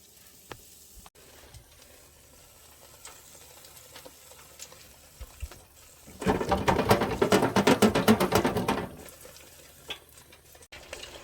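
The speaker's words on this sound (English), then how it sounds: "Right into the fryer." Tempura-battered chicken dropped into a deep fryer bursts into a loud, dense crackling sizzle that swells suddenly and holds for a few seconds before dying back to quiet kitchen background.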